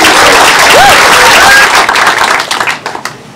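Audience at a community centre event applauds loudly and continuously, the clapping thinning toward the end with a few voices and whistles mixed in.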